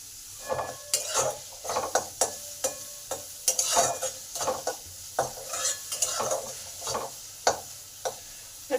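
Chopped onion with salt frying in a pan, stirred in quick repeated scrapes and taps against the metal over a gentle sizzle, nearby and moderately loud.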